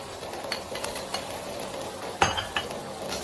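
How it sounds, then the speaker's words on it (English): Garlic scapes and eggs stir-fried in a wok: a quiet, steady sizzle with light scraping of a utensil, a few faint taps and one sharp metallic clink partway through, heard close up. "Then stir fry."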